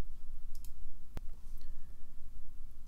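A single sharp computer mouse click stands out on a quiet background, with faint lighter clicks just before it and a little after it.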